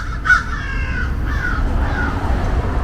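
Crows cawing outdoors: a near, loud caw at the start, then a few fainter drawn-out calls over a steady background of outdoor ambience.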